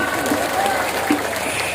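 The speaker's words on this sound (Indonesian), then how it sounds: "Tepuk tangan dulu dong" An audience claps at an Islamic religious gathering with a rebana group, the applause fairly loud and mixed with crowd noise and a few voices.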